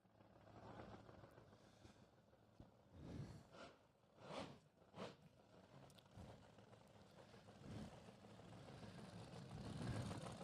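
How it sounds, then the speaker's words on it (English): Dennis Priddle's 'Mr. Rebel' world-record top fuel dragster, with its 604 engine, cackles down the Santa Pod Raceway strip at a nostalgia drag meet: faint, distant rumble broken by a few sharp popping bursts. "you can hear the engine cackling as it comes down."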